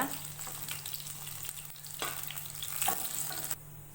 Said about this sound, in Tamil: கொஞ்சம் சிம்லையே வச்சு நல்லா வதக்கிடுங்க. தோல் வந்து நல்லா சுருங்குற அளவுக்கு நல்லா வதக்கிக்கோங்க.